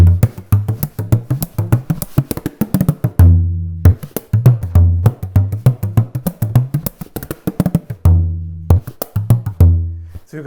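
A bodhrán frame drum plays a fast, busy rhythmic groove of sharp strikes and deep booming tones, with brief pauses between phrases.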